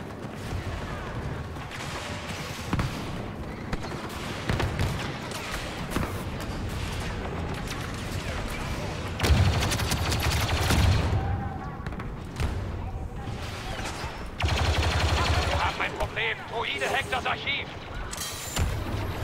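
Repeated bursts of blaster gunfire in Star Wars Battlefront II crack over a dense, noisy background of mechanical clatter and rumble, with voices talking at times.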